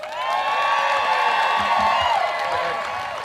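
A rally crowd at a march for democracy cheers, whoops and applauds loudly and continuously, a dense wash of voices and clapping close by.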